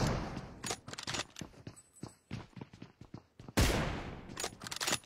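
Video game gunfire from an M24 sniper rifle: a rapid run of sharp, close shots and bursts with one especially loud crack midway, and no talk over it.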